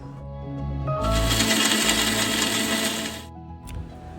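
An electric mixer grinder whirs loudly for about two seconds, blending cumin and black pepper into a smooth paste in a Palakkad-style kitchen, then spins down and stops.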